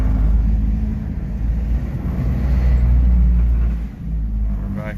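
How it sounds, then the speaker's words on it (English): Noisy engine of a four-wheel-drive John Deere minitruck, a steady loud low rumble running throughout with a brief dip near the end, close and alone without talk. "Something's in that engine's making a racket."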